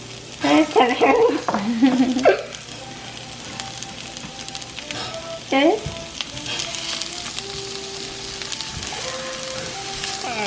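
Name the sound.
celery and jackfruit sautéing in a pan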